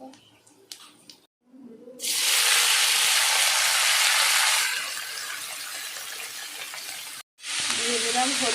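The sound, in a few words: sizzling tempering: vegetable peels, five-spice and dry chilli in oil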